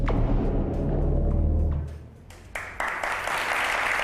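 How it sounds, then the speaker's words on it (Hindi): An audience breaks into applause as a low, dense musical passage fades, the clapping spreading into a steady broad wash of noise that continues to the end. "तालियां बजाने की कोई बात नहीं है"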